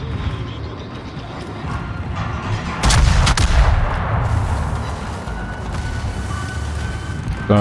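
Secondary guns of the Brazilian battleship Ipiranga in World of Warships, firing against destroyers: a heavy, continuous roar of cannon fire with a sharp loud volley in the middle, sustained and close.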